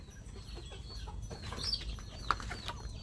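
Chickens clucking at a rural home: quiet, intermittent clucks and a short squawk at a moderate distance, with no one speaking.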